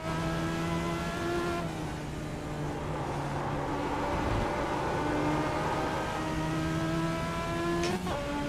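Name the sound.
race car driving fast on a track lap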